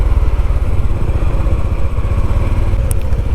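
A Honda CT125 motorcycle rides through London streets toward Hyde Park at night, its small single-cylinder engine giving a steady, close, continuous chugging drone with road rumble and no break in the sound.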